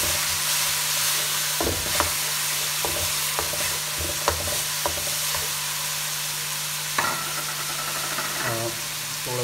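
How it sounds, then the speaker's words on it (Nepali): Tomatoes stirred into softened onions in a pan for veg macaroni, producing a steady sizzle with repeated spoon scrapes and clacks against the pan, close and fairly loud, over a low constant hum, without talk. "अभी हम इसमें टमाटर डालेंगे।"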